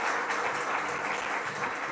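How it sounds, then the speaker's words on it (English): Sustained applause from a conference audience, dense steady clapping filling the whole moment with no voices on top. "A round of applause to them, please."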